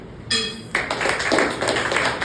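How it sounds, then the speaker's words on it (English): A big round of applause at a Toastmasters club meeting for the outgoing executive committee, starting with a sharp burst and continuing as steady, dense clapping from the gathered members. "I would request all of you to give a big round of applause for the past ExCom team who are completing their term today"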